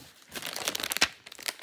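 A snack package crinkles and rustles up close as food is pulled out, in a brief cluster of crisp, irregular crackles.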